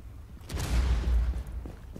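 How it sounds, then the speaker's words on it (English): A single muffled in-game explosion in Rainbow Six: Siege swells and rumbles for about a second before fading into a low background. "I hear an explosion."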